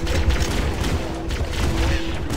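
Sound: pistol gunfire in the video game Halo

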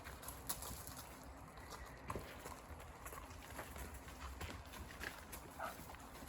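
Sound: wild horses walking, hooves clopping

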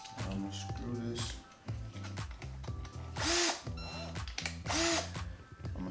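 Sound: screws being driven into a DIY overhead camera rig

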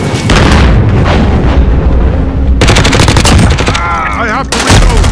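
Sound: gunfire in Call of Duty video game

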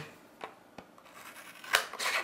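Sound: rescue shears cutting thin cardboard

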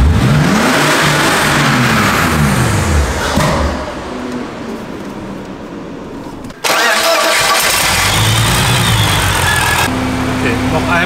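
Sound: BMW E46 turbo and supercharger engine revving

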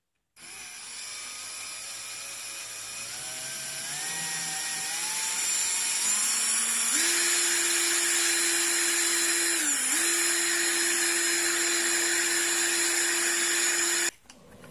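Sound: trimming brass cartridge cases with Lee case length gauge and lock stud

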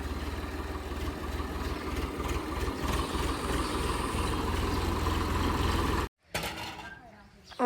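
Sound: tractor engine idling

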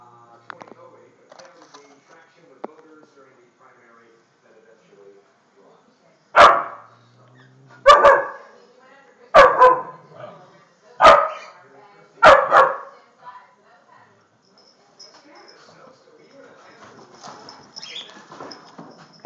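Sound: dog barking

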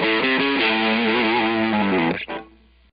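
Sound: guitar through distortion with dynamics and sustain envelope

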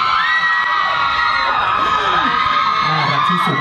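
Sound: fans screaming

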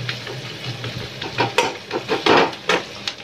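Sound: onions frying and being stirred in a pan

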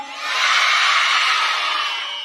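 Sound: children shouting loudly

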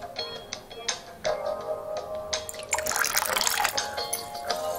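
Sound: pouring lemon juice into popsicle mixture

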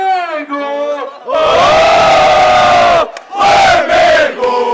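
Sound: crowd chanting

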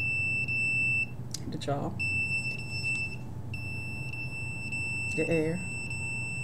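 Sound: electronic detector beeping

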